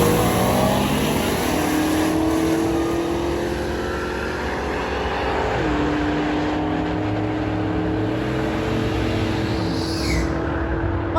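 Supercharged Crown Vic and a Mustang making drag strip passes, a steady loud engine drone with a rising pitch that drops and climbs again as a car pulls away down the track.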